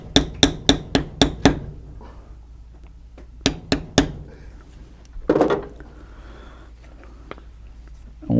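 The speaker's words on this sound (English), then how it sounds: "I'll use that beveling tool and come out to the other line." A beveling tool is struck on a leather filigree belt in sharp, close mallet taps, first a quick run of six, then three more, followed by quieter handling and rustling.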